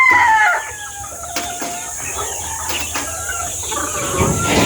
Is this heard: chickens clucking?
yes